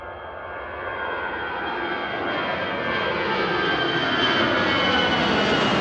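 A 15-year-old EasyJet Airbus A320 Classic jet roars at Manchester Airport, its engine noise building steadily louder as it passes close by, with a rising whine over the broad rumble.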